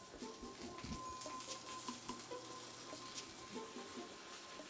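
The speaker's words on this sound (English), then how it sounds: "that skin side is starting to sizzle, sizzle." Faint, steady sizzling and crackling of salmon skin-side down in oil in a frying pan, with light spattering throughout and no talking.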